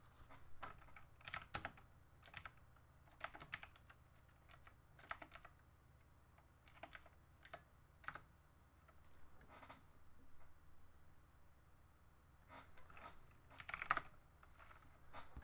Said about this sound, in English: Did you just type in CD?